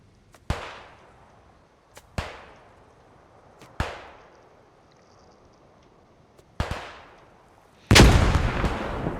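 Gunfire and a grenade blast in the World War II shooter Post Scriptum: four sharp, isolated shots with echoing decays a second or two apart, then a louder, denser explosion burst.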